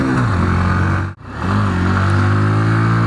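A Hero Glamour X 125 motorcycle engine hums loudly and steadily while riding, with a brief dip in the middle before the tone rises again as the revs climb.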